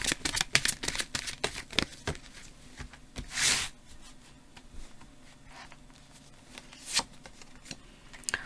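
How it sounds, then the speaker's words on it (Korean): A tarot deck is handled and a single card is drawn, a run of rapid crisp card flicks and shuffling riffles close up, with a couple of louder swishes in between. "조언 카드 한 장 뽑아드리고 리딩 마무리하도록 할게요"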